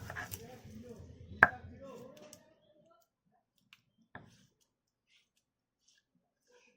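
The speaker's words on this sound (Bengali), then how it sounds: "কাঁচা লঙ্কা, আদা আর ধনেপাতা বাটা হচ্ছে।" Green chilli, ginger and coriander are ground into a paste, making close, rough scraping and knocking for about two seconds. A few isolated taps follow in near silence.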